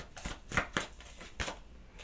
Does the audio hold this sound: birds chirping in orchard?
no